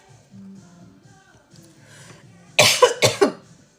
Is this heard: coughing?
yes